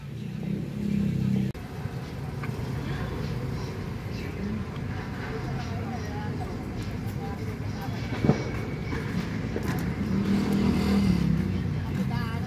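Vehicles rumble past on a one-way road in a steady low traffic drone with a brief knock partway through, while people talk over it.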